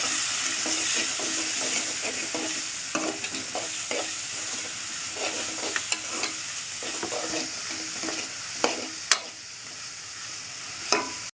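Lentils being stirred into chicken curry in a pan: a steady, close scraping and sizzling bed with soft clicks of the spoon against the pan, continuous throughout with no talk.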